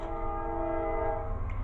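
A train rolls past outdoors, its horn sounding as a steady, loud tonal blast throughout, heard through an open back door with the rumble of the cars underneath.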